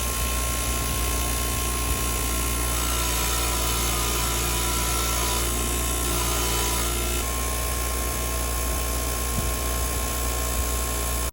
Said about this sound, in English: I'm going to clean these up with the wire wheel